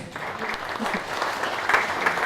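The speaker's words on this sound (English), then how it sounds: "So give her a big round of applause for even just being here tonight, Liz." A London ad-tech meetup audience gives a short burst of applause, a close, busy clatter of many hands that swells slightly toward the end, with faint voices murmuring beneath it.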